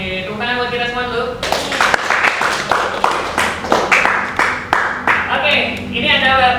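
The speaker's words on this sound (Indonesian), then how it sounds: "tepuk tangan buat kita semua dulu." A group claps hands together during a chemistry lesson on designing reactions, starting with tonal sound and then a burst of sharp, fairly regular claps over several seconds, mixed with voices.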